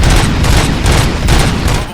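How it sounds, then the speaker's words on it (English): Dense, loud gunfire in the video game RoboCop: Rogue City, a continuous barrage of overlapping shots with heavy low-end booms for about two seconds. "Gunshots? What's going on?"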